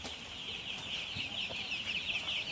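Soft, steady high-pitched peeping of many chicks in a brooder, some dehydrated, continuous and close, with a few faint low clucks underneath.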